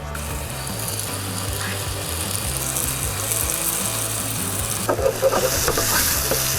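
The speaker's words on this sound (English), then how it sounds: "we're just gonna let these fry up until they're nice and crispy" Chicken breasts fry in oil for a stimpak-themed recipe, making a constant close sizzle with rhythmic scraping and stirring clatter throughout.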